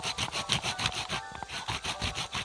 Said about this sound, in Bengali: এখানে আমি টমেটোটা গ্রেট করে নেব